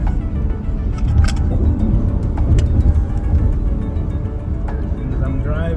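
A car travels along a non-toll road on an evening commute, heard from inside as a steady, close, low rumble of road and engine noise that holds level throughout.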